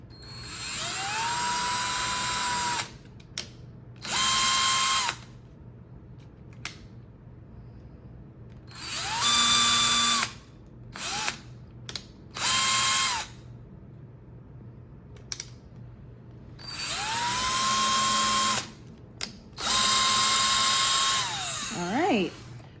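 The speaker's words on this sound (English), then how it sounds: "Pilot holes are just so the screws have somewhere to go." A handheld power drill boring pilot holes into a piece of wooden furniture, with several separate whining bursts that rise in pitch and then hold steady, each followed by a pause, recorded close up and without talk.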